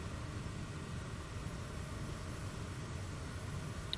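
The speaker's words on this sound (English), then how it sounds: "Beautiful takeoffs." Propeller airplanes taking off on a run heading down to Texas, heard as a steady, broad engine roar and rushing drone held at even loudness throughout, with no talk over it.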